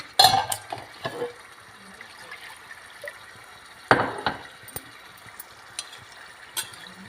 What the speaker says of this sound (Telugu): దీంట్లో ఇంకా కొద్దిగా నీళ్ళు పోసి